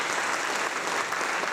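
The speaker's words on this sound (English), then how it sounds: "A round of applause for them." Live-show audience applause, a steady, full wash of many hands clapping, fairly loud and uninterrupted.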